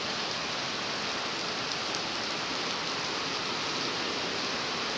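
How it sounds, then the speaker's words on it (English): Steady rain falls on an outdoor campsite along a walking route from Georgia into Florida, a constant, dense hiss that stays even and fairly loud throughout with no voices. "So there's a band of rain actually coming."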